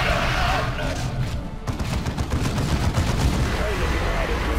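Dense, continuous gunfire and explosions from the Warhammer 40000 Dawn of War 2 strategy game, rapid overlapping shots and booms that stay loud throughout, with a voice talking over the battle.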